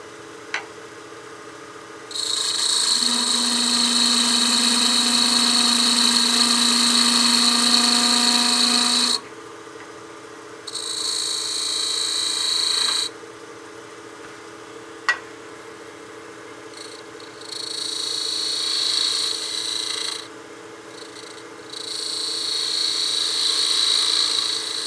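A skew chisel taking peel cuts on wood spinning on a lathe, making a whining, high-pitched cutting hiss in several bursts of a few seconds each, with a steady motor hum underneath and pauses in between.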